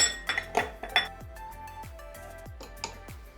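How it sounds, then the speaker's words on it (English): Oil, Dijon mustard and sugar are whisked together in a bowl, giving quick metallic clinks and taps of a utensil against the bowl, close and clear, with a few ringing tones and no speech. "So just going to mix it up so that everything combines and the sugar dissolves"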